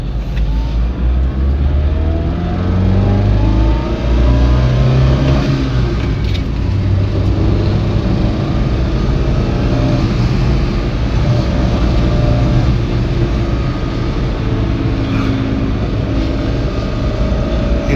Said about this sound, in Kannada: ಇಂಜಿನ್ ನಾಯ್ಸ್ ಕೇಳ್ಬೋದು ನೀವು.